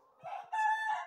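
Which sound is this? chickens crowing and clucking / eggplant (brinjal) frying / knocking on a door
chickens crowing and clucking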